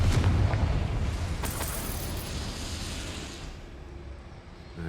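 The Confringo fire spell in Hogwarts Legacy bursts with a loud, rumbling explosion inside the Gobbledegook Mine, its deep boom decaying slowly into a long, fading roar.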